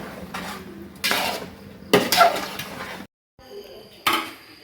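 Spatula scraping and clanking against a pan while liver fries with masala powder, heavy rhythmic strokes in bursts, close and fairly loud, with a short silent gap midway.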